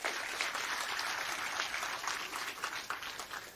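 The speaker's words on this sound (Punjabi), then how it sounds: "ਇੱਕ ਵਾਰੀ ਆਪਣੇ ਆਪ ਦੇ ਨਾਂ ਤੇ ਆਪ ਹੀ ਜ਼ੋਰਦਾਰ ਤਾੜੀ ਮਾਰ ਲਈ" An audience claps together in a steady, dense round of applause, heard at a fair distance and fairly quiet, with no one speaking over it.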